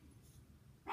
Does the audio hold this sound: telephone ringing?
no